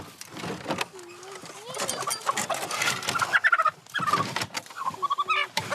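A hen or chicken gives repeated short clucks and squawks close by in a village setting, interspersed with people talking nearby.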